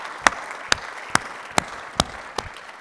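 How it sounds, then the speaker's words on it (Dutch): Six sharp, evenly spaced claps ring out in a steady rhythm at a Tilburg University symposium on economics and values. Each one stands distinct against a quiet room, with no voices heard. "een extra hard applaus voor deze panel"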